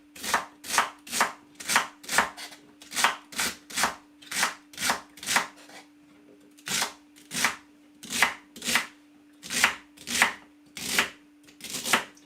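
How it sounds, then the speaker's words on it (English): Celery is chopped on a cutting board in crisp, evenly spaced knife strikes, about two per second, with one brief pause midway. No voices are heard. "now what we're going to do, we're going to get the celery cut up."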